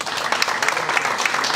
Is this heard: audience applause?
yes